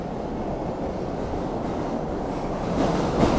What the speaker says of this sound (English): That's the sound of the red line at full speed.